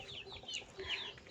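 Backyard chickens in a rural Philippine province cluck and murmur near a bucket of feed, with soft, overlapping calls and a brief higher squawk, and no one speaking.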